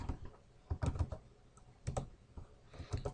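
Clusters of keystrokes on a computer keyboard as Cisco commands are entered, bursts of quick clicks separated by short pauses, close and distinct with no voice.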